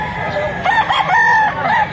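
A rooster crows in a drawn-out call, fairly close, over a busy background of other birds and low murmuring.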